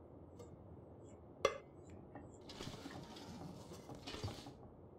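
A cooking pot is handled in the video game The Long Dark, giving a sharp metallic clank followed by quieter rattling and scraping clatter, faint and isolated with no speech.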